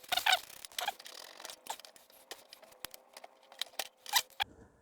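Plastic clicks, squeaks and short snapping sounds from releasing an oxygen sensor electrical connector with a release tool on a Mini Cooper S R60 Countryman ALL4, close and fairly loud, scattered in irregular bursts with quiet gaps, no talk.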